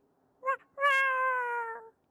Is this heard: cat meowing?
yes